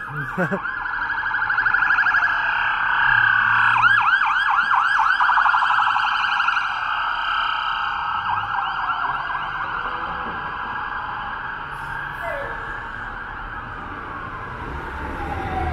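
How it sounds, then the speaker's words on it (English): Emergency sirens wail continuously nearby on a downtown Toronto street, a rising and falling electronic tone with overlapping yelps, loud at first and slowly fading over traffic noise. "There's suddenly all kinds of siren action going on"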